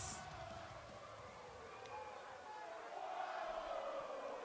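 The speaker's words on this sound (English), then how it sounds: "The Las Vegas crowd is not disappointing us. This crowd is cooking." A large arena crowd at a WrestleMania wrestling event in Las Vegas roars and cheers in a steady, broad wash of noise that swells louder toward the end.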